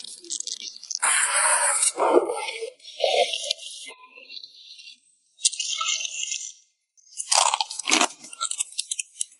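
Crisp, crunchy food cooked on an outdoor mountain-forest barbecue is bitten and chewed up close in loud crunching bursts, with short quiet pauses between them.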